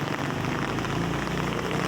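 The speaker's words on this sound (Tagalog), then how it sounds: "Ang lakas ng ulan guys." Heavy rain pouring down on a walk to the market past roadside trees, a dense, constant roar of drops close by with no pauses.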